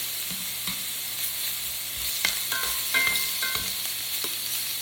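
Chicken for orange chicken frying in a hot pan as pieces are moved around: a constant hiss of sizzling with occasional scrapes and light knocks, close and moderately loud, with no talking.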